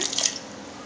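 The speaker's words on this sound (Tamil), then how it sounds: "நல்லா தண்ணியில் போட்டு கழுவிட்டு எடுத்து வைக்கிறேன்" Small cut cauliflower florets are rinsed in a bowl of water in a home kitchen, giving a short burst of faint dripping and sloshing that fades quickly into quiet.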